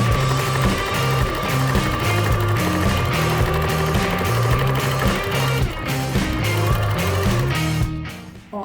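Sewing machine stitching the closing seam at the end of a fabric dog pajama, a steady loud mechanical whir with rapid repeating needle clatter running continuously for several seconds before stopping.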